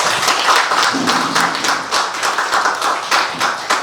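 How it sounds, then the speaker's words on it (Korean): An audience at a city press event applauds the mayor of Nonsan, with loud, close clapping in uneven bursts that carries through the whole moment. "백성현 논산시장님께 박수 한번"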